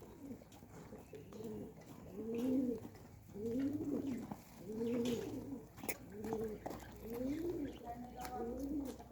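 Pet pigeons coo in repeated rolling phrases, close and fairly quiet, with a low steady hum underneath.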